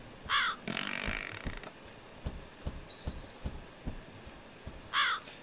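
A bird in a bird-flight video game gives harsh crow-like caws at the start and end, with a mechanical creaking and clicking rhythm in between, moderately loud and without talk.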